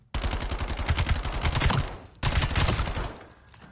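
A submachine gun in Black Ops 7 fires two loud, rapid automatic bursts, the first longer and the second shorter, with a brief gap between them.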